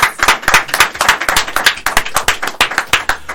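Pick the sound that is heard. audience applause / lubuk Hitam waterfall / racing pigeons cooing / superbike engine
audience applause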